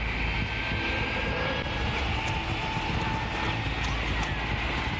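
Old warplanes fly past with a steady, droning engine roar, a continuous, moderately loud rumble that holds evenly from start to finish.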